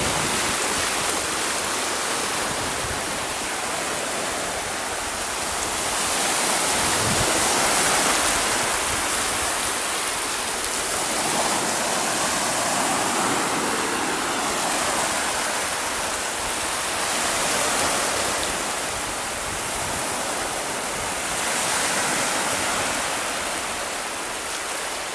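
Sea waves wash onto the beach at Port de Sagunt, Spain, a continuous rushing surf with gentle rising and falling swells, steady and fairly loud with no voices.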